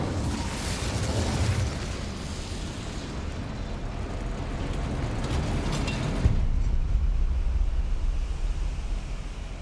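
An Incendio fire spell bursts in Hogwarts Legacy with a loud, sustained roaring whoosh that rises again partway through, a dense rushing blast with no speech over it.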